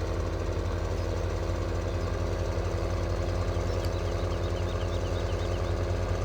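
A farm tractor in Farming Simulator 2017 hauls a loaded trailer around the farmyard, its engine droning steadily and lugging under load throughout, with a constant low rumble and no talking.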